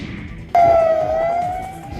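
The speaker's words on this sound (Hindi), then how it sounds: "पूरे इलाके में पुलिस सायरन की गूंज सुनाई देने लगी।" A police siren from a convoy in Ajmer cuts in abruptly at night with a loud, sustained wailing tone that holds steady and close, without speech.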